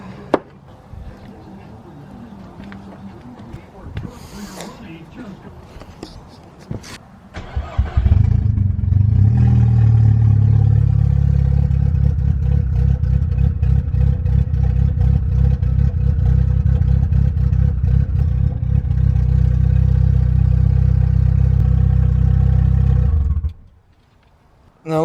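A MK6 VW Golf R with a recurring P0016 fault and a weak battery cranks and fires, then idles loudly and steadily with a deep rumble for about fifteen seconds before shutting off; quiet background noise comes before the start.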